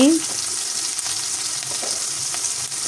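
Chopped onions and green chilies fry in oil in a pan, giving a steady, close, moderately loud sizzle that hisses continuously with light stirring scrapes and no talking.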